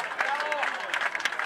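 Crowd clapping at an outdoor village folk festival performance, a short burst of scattered applause mixed with voices and general crowd babble.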